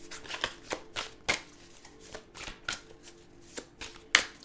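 Tarot cards being handled and shuffled during a reading, with soft, close riffling and slapping sounds in irregular bursts over a quiet background.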